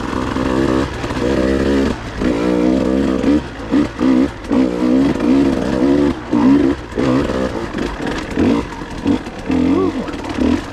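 A KTM 150 XC-W TPI two-stroke dirt bike ridden on wooded single track, its close, loud engine revving and rising in repeated bursts as the rider works the throttle through turns, with no other sounds standing out.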